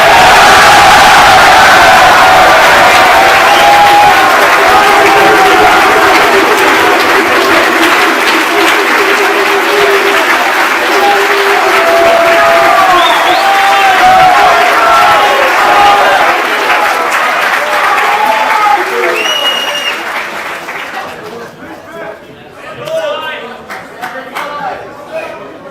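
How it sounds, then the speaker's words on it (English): Assembly audience bursting into loud, sustained applause with cheers, whoops and shouting, a dense crowd roar that holds for about twenty seconds before thinning into scattered claps and voices. "at this time you may applaud and go as wild as you"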